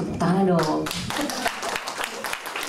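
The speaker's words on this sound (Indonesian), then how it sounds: "Terima kasih untuk Ibu Trimumpuni, mohon tepuk tangan dong." Audience clapping for Ibu Trimumpuni at an Indonesian talk on education and caring for the Earth, a short burst of scattered hand claps mixed with a speaking voice.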